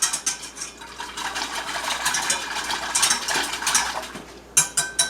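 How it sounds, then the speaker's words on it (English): Powder being whisked into a mixture in a kitchen pot, a quick rhythmic scraping and clinking of a metal whisk, fairly close and moderate, ending in a few sharper taps at the end. "Whisk that together real good so that you get all of the powder mixed up."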